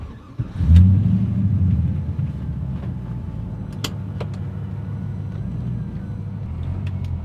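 Inside a BMW E30 swapped to an LS V8, the engine gives a deep, steady low rumble while driving, swelling briefly near the start and then holding an even drone with a few faint clicks on top.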